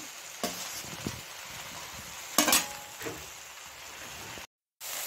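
Fried chowmein with raisins and nuts is stirred in a pan, soft scraping strokes and a few sharper clatters over a faint continuous sizzle, close and without speech.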